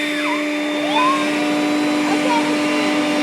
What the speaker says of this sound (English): I'm gonna put this blower nozzle on.